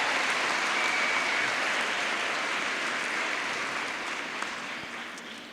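A round of applause from an audience at a girls' high school event, a broad wash of clapping that holds steady and then gradually fades away.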